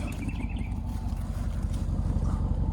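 A low, steady exhaust burble from a 2021 Audi SQ7 rumbles continuously at idle, close and fairly loud with a faint wind-like hiss over it.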